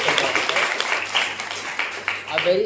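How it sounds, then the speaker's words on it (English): Steady crowd applause, a dense wash of clapping that continues throughout, with a faint low hum underneath. "A big round of applause for Anshika."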